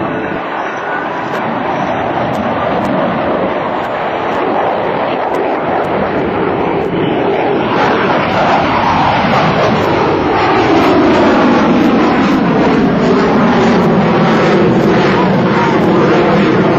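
An F/A-18F Super Hornet fighter jet at an air show roars past loudly and steadily, its broad engine rumble swelling and shifting in pitch as it passes, with no talking.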